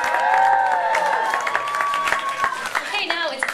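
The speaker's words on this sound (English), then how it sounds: "Give them a big round of applause" An audience claps and cheers for contestants at a hair and fashion show contest at a café, lively applause with a voice speaking over it and a few shouts rising near the end.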